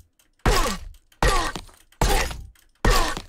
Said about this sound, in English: That's the sound of the player being hit.